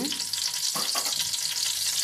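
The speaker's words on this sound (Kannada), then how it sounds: "ಎಣ್ಣೆ ಬಿಸಿ ತಕ್ಷಣ ಮಸಾಲೆ ಐಟಮಲ್ಲಿ ಹಾಕೋಣ" Biryani spices hitting hot oil in a pot on the stove, a steady close sizzle and crackle with a few stirring scrapes, no talking.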